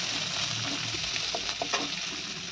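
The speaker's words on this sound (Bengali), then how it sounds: "আর এদিকে মা পেঁয়াজটা দিয়ে দিল ভাজতে, সাথে লঙ্কা দিয়ে দিয়েছে" Onions and green chilies frying in a pan, a dense crackling sizzle with several spatula scrapes and light knocks near the end, close and steady with no speech.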